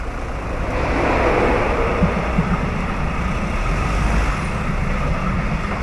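Steady road traffic with cars driving and parking rumbles throughout, car and truck engines droning close by in a continuous low wash of motor noise.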